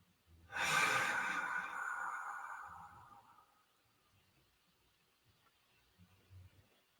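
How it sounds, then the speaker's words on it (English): One long, deep exhale rushes out close to the ear and fades over about three seconds, followed by quiet, faint breathing sounds. "Now take a couple of nice deep breaths."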